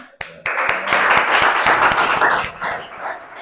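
Classroom of students doing an appreciation clap, a few sharp individual claps followed by a burst of rhythmic group clapping mixed with children's excited voices, close and loud, tapering off at the end.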